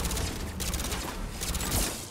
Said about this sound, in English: Sentry turret! Sentry turret to rescue! Go, go, sentry turret!